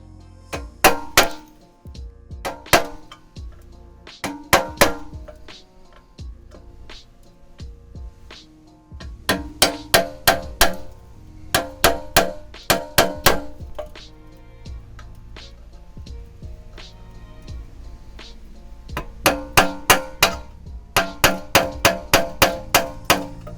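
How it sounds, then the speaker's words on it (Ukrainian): Repeated metallic hammer strikes as a nail is driven into an old metal pot to mark holes for drilling, coming in quick bursts of several sharp clinks separated by brief pauses, close and loud with no talk. "отак зараз цвяхом надіб'ю дирки, так щоб сверло трималось на місці."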